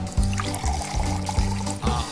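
Olive oil poured into flour, water and eggs for homemade pasta dough, a close trickle that glugs in short repeated pulses, with no voices.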